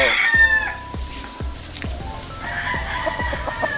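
A young April-born rooster stag crows in a backyard, with a short raspy crow up front followed by a series of clucks and scratchy calls, close by and fairly loud.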